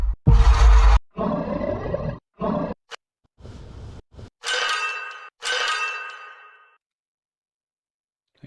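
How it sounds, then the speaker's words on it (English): A series of animal roar sound effects, several loud growling roars separated by brief silences, followed by a couple of bright metallic clangs ringing out. "I got plenty of roars."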